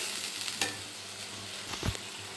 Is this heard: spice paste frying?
yes